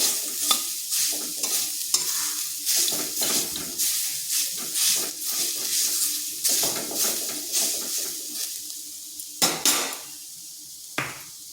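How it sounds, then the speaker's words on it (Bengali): Grated coconut being lightly fried, with repeated rhythmic scrapes of a spoon against the pan over a soft sizzle, a few sharper metal clanks near the end. "দিয়ে দিচ্ছি নারকেল কুড়া, হালকা একটু ভেজে নিচ্ছি যাতে কাঁচা গন্ধটা চলে যায়।"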